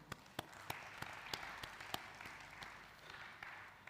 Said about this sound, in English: A big round of applause to Hans India.